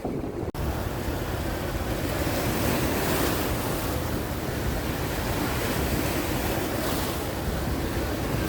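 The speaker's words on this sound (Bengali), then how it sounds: "জোয়ার চলছে দেখেন কি ভয়ঙ্কর স্রোত" Fierce incoming tidal current on the Meghna river at Hatiya, a loud continuous rush and roar of churning water with heavy wind buffeting throughout, no voices.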